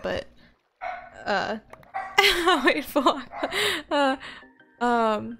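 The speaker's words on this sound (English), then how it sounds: "you might be able to hear my dog in the background" A dog barks a few times in the background while a person talks over it, with brief laughter mixed in.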